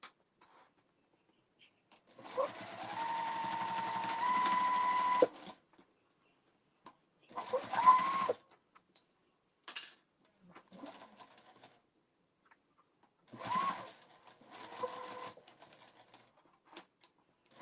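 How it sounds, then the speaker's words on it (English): Home sewing machine running short forward and backward stitches across the feet of a fabric memory bear, heard as several separate bursts of rapid mechanical clatter with quiet gaps between them, close and clear, without talk. "For the feet, I do some little forward and backward stitches on it to make sure that even if somebody pulls on the feet, they won't break the seam"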